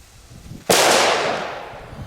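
An Achtung firecracker goes off during a test, one sharp, loud bang after a quiet moment, followed by a roaring decay that fades over more than a second.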